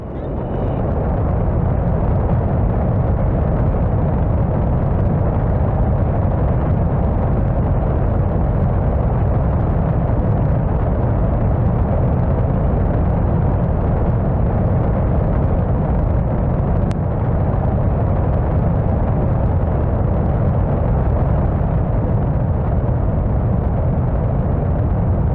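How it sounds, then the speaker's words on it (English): A rocket stage blowing apart in a rocket-building game, a loud, sustained roaring rumble that stays dense and steady throughout with no pause. "that stage just exploded"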